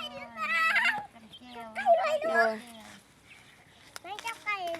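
Chickens being chased and caught on a Thai farm: squawking, clucking bird calls in several bursts, up close, mixed with children's and adults' voices.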